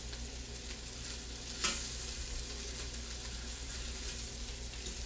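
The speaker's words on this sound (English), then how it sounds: "we're going to let that sear for probably another minute" Beef sizzling as it sears in an Instant Pot, a steady broadband hiss of frying that runs throughout with one brief clatter near the start, fairly close and without speech.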